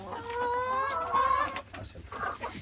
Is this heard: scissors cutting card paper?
no